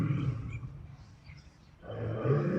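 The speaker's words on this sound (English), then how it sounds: "they all heard the loud roar of a male lion in the distance." A male lion roaring in the distance on an African safari, one deep rumbling roar rising again near the end, moderately loud and alone.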